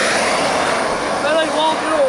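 A jet turbine in a radio-controlled truck roars loud and close, a steady high-pitched whine and rush with slight pitch swells while someone talks over it.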